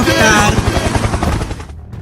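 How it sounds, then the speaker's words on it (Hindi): Helicopter in a Dragon Ball–themed video game mode makes a loud, rapid rotor chop that pulses evenly and tapers off near the end, with a voice speaking over it. "हेलीकॉप्टर।"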